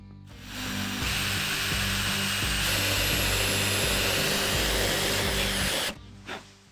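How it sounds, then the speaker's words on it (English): A power drill runs steadily as it bores holes into a car's painted bodywork for mounting mirrors, a continuous high whine lasting about five seconds before cutting off, close to the microphone. "Time to get these mirrors installed, which means I need to drill some holes in this beautiful bodywork."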